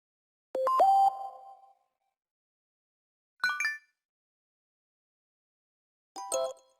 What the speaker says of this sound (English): Below the ringtone, you have alert tones